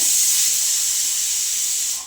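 A pressure cooker full of rice vents steam in a loud, continuous hiss that holds steady, then tails off at the end, with no voices.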